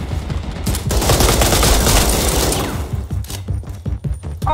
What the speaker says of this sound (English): Our machine gun might work first.